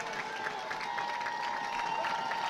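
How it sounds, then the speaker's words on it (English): Distant crowd at a high school football game between Centennial and Brentwood rising in steady cheering and applause, a broad continuous roar with scattered shouts over the stands. "And the crowd's coming to life."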